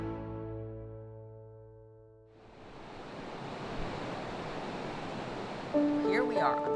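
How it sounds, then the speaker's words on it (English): The only major falls on the Mississippi River in Minneapolis roar as a steady broadband rush of water. It rises after a tonal musical opening and continues under a speaking voice near the end. "Here we are on the Mississippi River, on the only major falls on the river"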